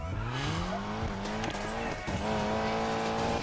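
Race car engine in the Need for Speed Payback video game revving hard through rising gear pulls, with tire squeal and skidding layered in, loud and continuous with no talk.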